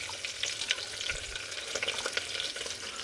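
Sliced green chillies and onions fry in oil with a continuous close sizzle, dotted with crisp pops and a dull knock of a spoon in the pan, no voices present.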